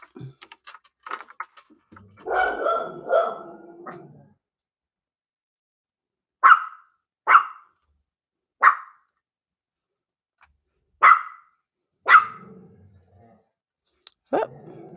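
A dog gives about six short, separate barks at a moderate distance, spaced a second or so apart, after a brief muffled burst of talk and clicking.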